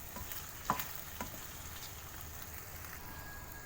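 Beef steak frying with a sprinkle of Knorr powder, a soft steady sizzle with light tapping stirs near the start, fairly quiet throughout.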